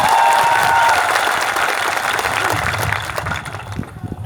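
Loud, dense applause from a crowd at a political rally for election candidates, a steady roar of clapping that fades slightly toward the end.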